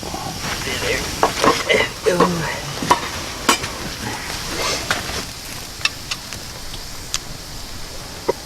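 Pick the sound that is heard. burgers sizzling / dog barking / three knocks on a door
burgers sizzling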